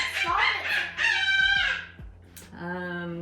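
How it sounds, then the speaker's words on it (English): A chicken makes loud, close, strained squawking calls with a drawn-out crowing quality, several bursts in quick succession. "what is that, a chicken?"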